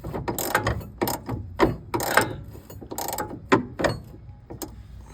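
A ratchet wrench works a stubborn bolt on a Hummer H1 body mount with a series of loud, close clicking ratchet strokes in irregular bursts and no talking.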